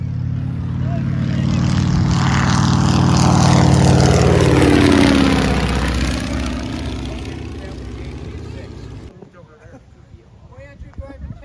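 A rare propeller aircraft with an R670 radial engine flies past, loud and swelling to a peak before fading away, with someone talking over the drone.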